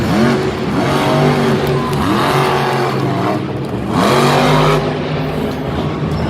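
Dragon monster truck at Monster Jam in Lyon, France, engine roaring and revving as it launches off tires, several loud throttle swells rising and dropping close by over arena din.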